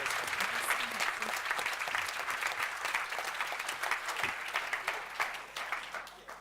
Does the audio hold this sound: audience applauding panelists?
yes